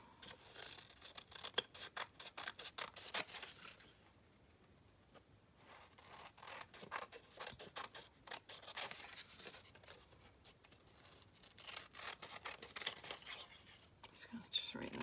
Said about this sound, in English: And now cut around it again.